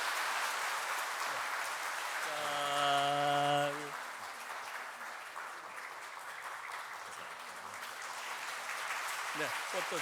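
A Sunday church congregation claps in a steady, broad wash of applause lasting through the clip, with a short tonal voice or instrument swelling briefly near the start.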